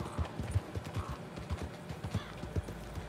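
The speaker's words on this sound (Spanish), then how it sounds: "Viene a caballo, tío" Hooves pound in a fast, even gallop as a horse runs in Red Dead Redemption 2, the thuds close and distinct with no voices.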